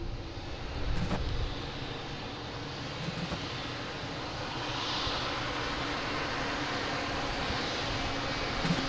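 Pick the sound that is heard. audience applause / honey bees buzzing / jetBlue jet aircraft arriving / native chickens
jetBlue jet aircraft arriving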